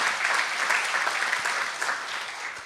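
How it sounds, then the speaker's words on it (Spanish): Church congregation applauding during a sermon, continuous moderately loud clapping with individual claps audible, no talking over it. "Un aplauso al Señor si quiere, está bien."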